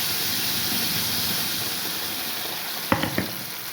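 A ground tomato mixture sizzles in hot sesame oil for tomato pickle, a steady close hiss with a few sharp knocks of a spoon near the end.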